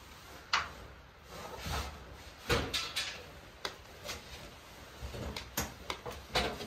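Kitchen drawers opened and shut during a home renovation, a string of scattered wooden knocks and sliding thuds at uneven intervals over a quiet room.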